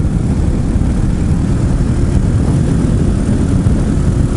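An RPS Hawk 250 motorcycle engine holds about 4,500 RPM while riding near 42 mph on a windy day, giving a steady, loud, low drone blended with constant wind rush throughout, with no voices.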